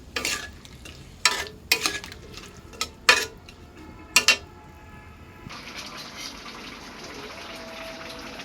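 Curry cooking in a pan for a fish dish, with several sharp metal stirring scrapes close by over a low sizzle, then a steady bubbling hiss once the stirring stops.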